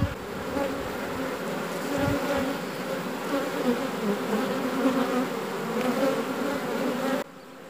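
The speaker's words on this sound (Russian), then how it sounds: "Пошли наши пчелки." Honeybees pour out of a hive opened at the lower entrance during the merging of a swarm with a split, giving a dense, steady close-up buzzing hum that fills the scene throughout, ending with a short drop in level.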